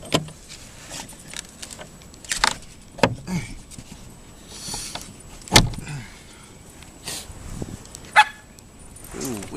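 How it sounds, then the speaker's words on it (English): A dog outdoors in deep snow during the 2011 Chicago blizzard, with a few scattered barks and sharp thumps at moderate distance and quiet stretches in between. "Stupid dog."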